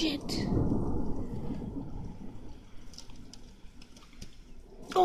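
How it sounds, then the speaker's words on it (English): Deep rolling thunder rumbles loudly at first, then fades into a steady wash of rain and wind, with faint bird chirps in the background. "Oh, thunder! And the lightning."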